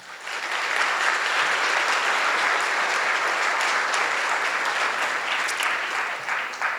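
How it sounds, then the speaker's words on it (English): Audience applause fills a gala dinner hall in Limpopo, a dense, steady wash of clapping that swells in quickly and holds loud and even for several seconds before easing slightly at the end. "I think that is definitely worthy of an applause."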